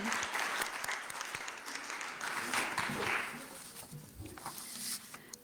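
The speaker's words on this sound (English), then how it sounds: "one more round of applause for Radha Subramaniam" Warm round of applause from an audience at an International Women's Day celebration, full and steady at first, then thinning toward the end with scattered individual claps and a voice faintly underneath.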